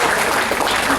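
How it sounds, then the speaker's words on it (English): An audience at a company orientation and induction programme gives a round of applause, a dense loud burst of clapping from many people filling the whole moment, with some crowd voices mixed in. "Can we have a big round of applause?"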